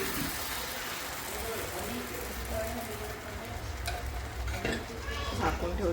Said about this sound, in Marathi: तर मी आता आंबोळी बनवत आहे, नाचणीच्या पिठाची आंबोळी.